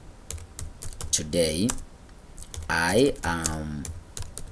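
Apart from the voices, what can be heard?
typing on a computer keyboard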